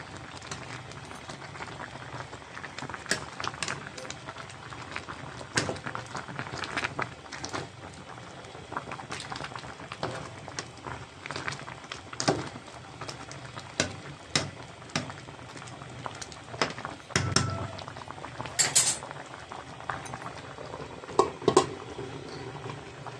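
Tomato sauce boils in a pot, a soft, irregular bubbling and popping at close range that runs continuously with scattered louder pops and occasional clinks.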